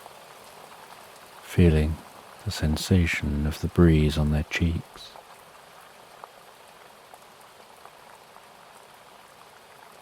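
Steady rain falls throughout as a soft, even hiss in the background, while a calm voice speaks over it for a few seconds in the middle.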